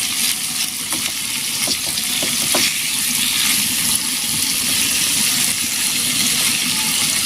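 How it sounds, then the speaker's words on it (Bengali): A fish head fries steadily in a pan of hot oil, a dense, continuous sizzle with faint crackles and a few light clinks, close and fairly loud throughout with no talking. "মাথাটা দিয়ে দিই, আর মাথা অনেক সময় লাগে ভাজতে"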